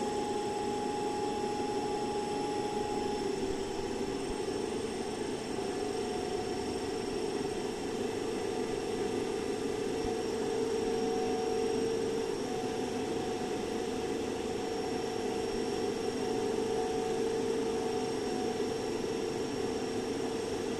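A DC motor running at no load during a Swinburne's test as a rheostat sets its speed to 1500 RPM, giving a steady, continuous hum and whine with fixed tones over a constant whooshing drone.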